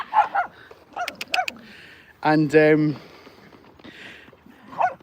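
Dogs on a group walk yip, whimper and let out a burst of barking during play, mixed with a person talking in between, at moderate distance.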